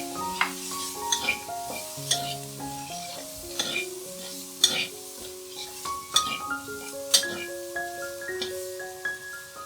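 Chickpeas are stir-fried in a pan with a steady sizzle, while a utensil scrapes and clinks against the pan in an irregular rhythm and background music plays.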